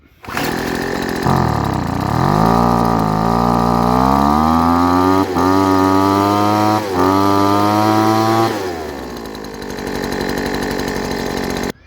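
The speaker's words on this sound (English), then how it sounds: "now we'll see if it revs up" A small two-stroke leaf blower engine starts up, revs steadily higher with a couple of brief dips, then drops back to a rough idle.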